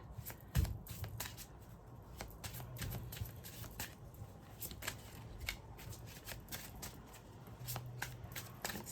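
Oracle cards from a Samhain oracle deck are shuffled by hand, giving a quiet, close run of quick riffling flicks and soft slaps with repeated short bursts.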